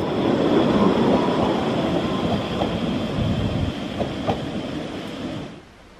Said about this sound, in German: in der Regel ist aber immer nur ein Zug auf der Strecke unterwegs, wie hier bei der Fahrt zurück nach Heinsberg